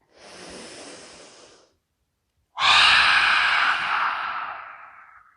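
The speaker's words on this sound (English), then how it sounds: "Big breath in through the nose. Stick out the tongue. Exhale." A yoga breathing exercise: a softer breath in through the nose, a brief pause, then a loud, forceful exhale with the tongue out, breathy and hissing, fading slowly toward the end.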